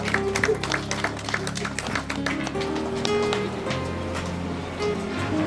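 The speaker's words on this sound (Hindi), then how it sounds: "एक बार जोरदार ताली से।" Applause from a gathered audience greets the president of the Hasimara branch of N F Railway in Alipurduar, a steady patter of many hands over roughly five seconds with some tonal background sound mixed in.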